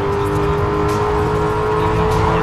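Engine of a car driving in the racing video game Need for Speed Carbon, a steady continuous drone with a sustained tonal hum, loud and unbroken throughout, with no voices.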